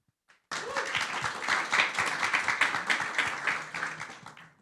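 Audience applause breaks out in a conference room at a client summit after a brief tap, a dense burst of many hands clapping that holds steady for about four seconds before tapering off.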